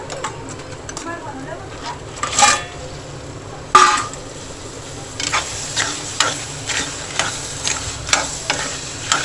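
Crabs go into masala frying in oil in a pan, bringing a couple of loud sizzling bursts followed by a run of rhythmic scraping stirs over a steady frying hiss, with faint voices in the background.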